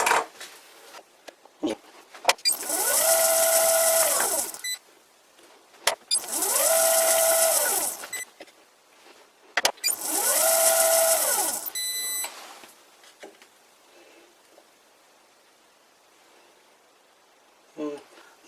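A vintage metal lathe turns a steel rod down from 8 to 6 millimetres, giving three loud, even cutting passes of about two seconds each with a whining, harmonic tone, separated by pauses and small clicks.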